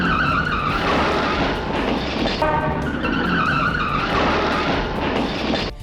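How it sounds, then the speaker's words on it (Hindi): A speeding car smashes through the glass entrance doors of a showroom at night, a loud continuous roar of engine and breaking, scraping glass filling the whole stretch with no voices. "कार तेज रफ्तार से आंधी की तरह आई और शोरूम के कांच के दरवाजों को तोड़ते हुए शोरूम के अंदर घुस गई।"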